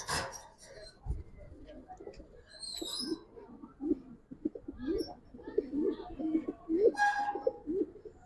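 Kaldom pigeons at a pigeon market cooing, soft low rolling coos repeating nearby amid quiet rustling and a few brief higher chirps, with faint voices in the background.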